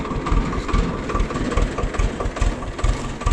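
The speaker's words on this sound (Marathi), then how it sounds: "त्यामुळे घेतलाय ट्रॅक्टर" A tractor engine works a farm field, its steady, rhythmic low chugging close by and loud, with no one talking over it.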